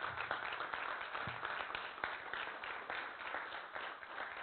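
A church congregation claps during a creationism seminar, scattered, moderately faint clapping with a few sharper individual claps over a muffled room.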